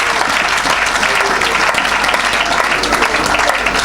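A church congregation claps loudly for Jesus during a Sunday worship service, a dense, continuous burst of applause that fills the room without letting up.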